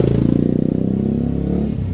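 Motorcycle engine idling or running close by, a steady low throbbing pulse with a rapid even rhythm, alone without talk.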